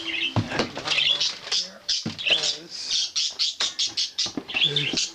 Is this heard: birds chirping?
yes